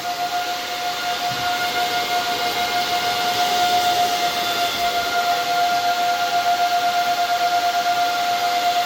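ASIC crypto miner in a shed with its cooling fans ramped to maximum speed, a loud steady broadband whoosh with a constant high whine running throughout, unchanging and close.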